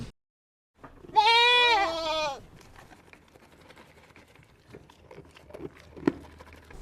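A goat gives a single loud, wavering bleat lasting about a second, followed by quieter farmyard background and scattered small knocks.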